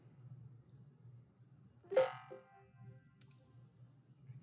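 A computer mouse clicks while someone works in a spreadsheet: a sharp click near the middle, then a fainter one a moment later, over a quiet low hum.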